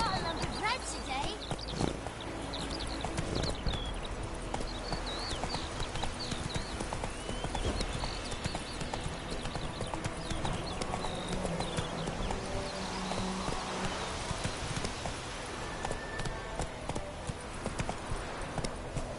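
Roach the horse gallops in The Witcher III, with rapid, continuous hoofbeats pounding over a dense outdoor game soundscape. Brief spoken voices come and go above the drumming hooves.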